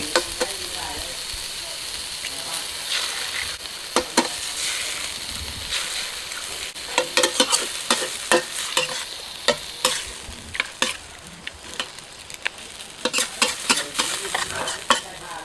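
Egg frying with shrimp in a hot pan, a continuous sizzle broken by frequent sharp spatula scrapes and stirring clatter, close and busy, growing more rapid toward the end.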